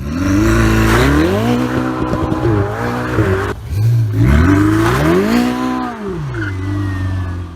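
Ferrari with a 3.9-liter twin-turbocharged V8 producing 661 horsepower revs loudly and continuously, its pitch climbing and falling through repeated throttle sweeps, with tire squeal and skidding mixed in and no talk over it.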